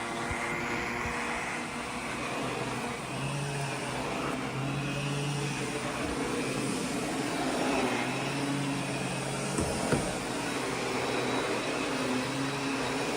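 A Miele S8 canister vacuum cleaner runs continuously with a steady, loud whirring drone that holds even throughout, with no voices.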